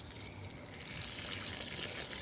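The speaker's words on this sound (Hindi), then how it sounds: "यही जो मैं दिखा रहा हूँ अभी, पौधों को आप पानी दीजिए" Water pours onto garden plants in a continuous trickling, splashing stream, steady and moderately close, with no speech.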